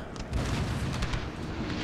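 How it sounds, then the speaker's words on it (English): Deep, rumbling booms of cannon fire roll continuously in a dense Napoleon: Total War battle soundscape on a hillside, with heavy low thuds and crackling bursts layered together. "With the cannons still roaring here on the hillside."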